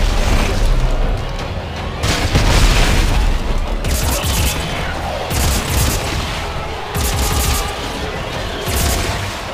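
Heavy weapon fire in Dead Space 3 during a zero-gravity sequence: loud, booming blasts and rattling bursts repeat over several seconds, with deep explosive thuds between volleys and dense, reverberant game ambience throughout.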